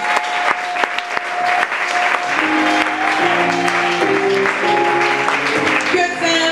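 A church congregation claps and cheers in praise of the Lord, loud sustained applause with scattered sharp claps while music and voices rise underneath.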